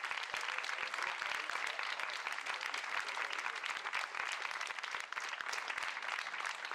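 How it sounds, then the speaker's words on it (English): A community gathering's audience gives a sustained, dense round of applause for a group of community leaders, steady and loud from start to finish. "I want a big round of applause for this amazing group of community leaders."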